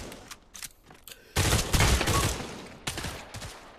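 Gunfire in the VR shooter game Pavlov: a dense, loud burst of rapid shots erupts after a quieter stretch, followed by a few more scattered shots toward the end, with no talking.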